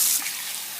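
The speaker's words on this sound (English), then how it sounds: "I'm going to rinse it out." Tap water runs steadily into a kitchen sink while something is rinsed out during preparation of Puerto Rican bistec encebollado, a brief soft hiss with no talking.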